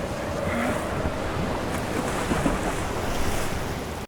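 Open ocean waves and gusting wind wash over the scene in a steady, loud rush, with surf sloshing nearby and buffeting wind noise throughout, no voices.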